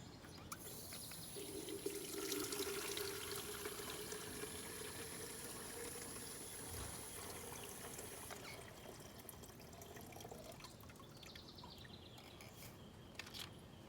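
Water poured into a Starbar Captivator fly trap container up to its fill line, a steady moderate pour with a trickling splash that gradually fades.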